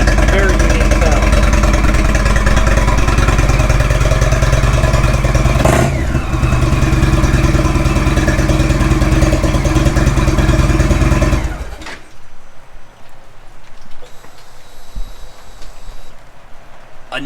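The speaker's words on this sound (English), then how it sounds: "The Thunderstroke 111 has a very, very unique sound." A 2016 Indian Roadmaster motorcycle with the Thunderstroke 111 engine idles loud and close with a steady deep throb, then cuts out abruptly, leaving quiet background; someone talks over it.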